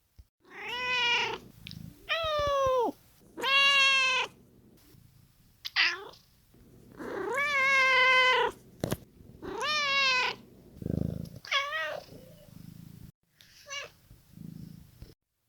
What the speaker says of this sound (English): Did you catch all of the meows? There were 8. Listen to them now.